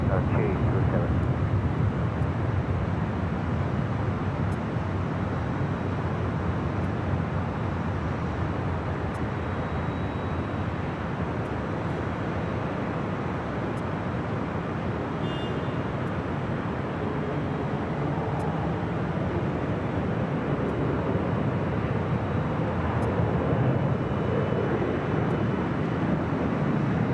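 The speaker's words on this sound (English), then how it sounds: "Now back with the beautiful livery on the Boeing 787-9 Dreamliner." Air Canada Boeing 787-9 Dreamliner at LAX near runway 24 left, a continuous broadband jet roar filling the scene at steady loudness, with voices speaking over it at times.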